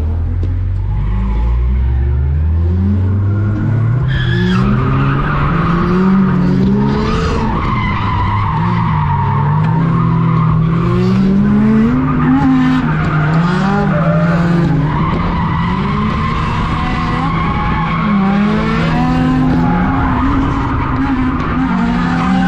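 A daily-driver drift truck with a welded differential slides with long, loud tire squeals over a revving engine whose pitch rises and falls through repeated drifts, continuous and close.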